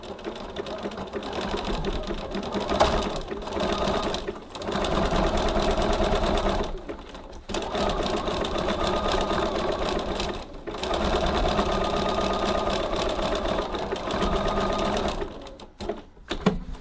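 Sewing machine running a zigzag stitch along a tote bag side seam, a steady loud whirring hum in several long bursts separated by brief pauses.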